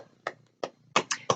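Hands clap a few times in a quick, sparse pattern, close and fairly soft, alone in a quiet room.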